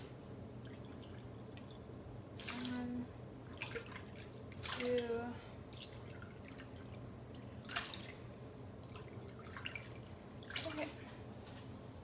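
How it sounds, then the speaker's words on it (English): Water poured into a pot holding two cups of rice in a home kitchen, soft trickling and dripping bursts that come and go under a quiet, close voice counting. "And then we just double that with water."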